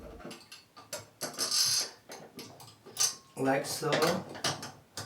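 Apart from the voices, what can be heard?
screwing tub drain linkage back in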